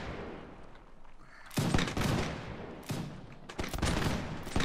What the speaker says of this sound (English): Alright, fire at will.